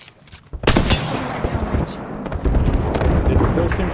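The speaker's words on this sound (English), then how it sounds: "He's still shooting there. Still shooting." Apex Legends gunfire, dense rattling bursts of automatic fire and impacts in a busy battle mix, loud and continuous with brief voice chatter in places.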